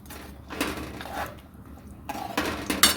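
Sautéed vegetables stirred into a paneer curry in a cooking pot, a spoon scraping and clinking against the metal in a few short bursts with quiet pauses between.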